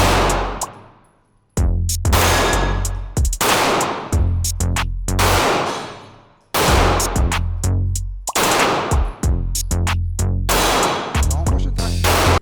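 Rapid bursts of automatic gunfire on a shooting course, loud and close, fired in long sustained strings with brief pauses until the ammunition runs out.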